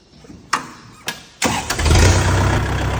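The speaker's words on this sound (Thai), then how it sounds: "เสร็จแล้วเท่ากับไปสตาร์ทรถนะครับ" A Kubota tractor engine is started after an oil change, a couple of short cranking bursts, then the diesel catches and settles into a loud, close, steady idle.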